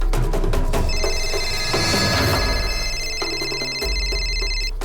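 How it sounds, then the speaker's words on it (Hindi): A telephone rings repeatedly in a tense police drama scene, its bright electronic trill sounding clearly over a low music bed and ambient rumble. "ए, किसका फोन है?"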